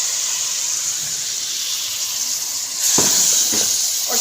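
Tomatoes hit hot beef karahi in a wok and set off a steady, loud sizzle with steamy hiss, which swells into a sharper crackling burst partway through and has no talk over it.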